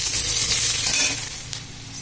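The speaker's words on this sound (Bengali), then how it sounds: "দিয়ে দিচ্ছি আমি পেঁয়াজের কুচি" Chopped onion hits hot oil already seasoned with five-spice, dried red chilies and bay leaves, bursting into a loud close sizzle that gradually softens, with a single small clink near the end.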